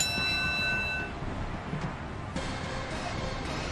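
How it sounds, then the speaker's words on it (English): A ringing match bell sounds at the start of a fight in the video game The Darkside Detective, a bright sustained chime that fades over about a second against a steady background hum. "There goes the bell."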